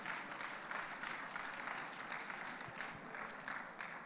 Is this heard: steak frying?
no